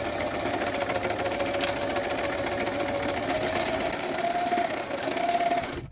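A sewing machine runs continuously, stitching fabric one centimetre from the edge, a steady close mechanical whir and rapid needle chatter that holds for several seconds before stopping, with no talking.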